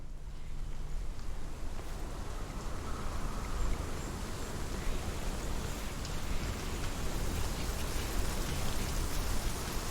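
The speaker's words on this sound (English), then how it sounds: "The rain is getting heavier." Heavy rain in the game Hellblade: Senua's Sacrifice, a steady dense hiss of downpour with pattering drops that stays loud and unbroken throughout, with no voices.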